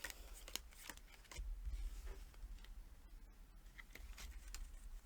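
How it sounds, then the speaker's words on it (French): Playing cards being dealt out one after another for the final round of the Papillon card game, a run of soft, close flicks and slaps on a table with no talking. "Et je vais donner les autres cartes restantes."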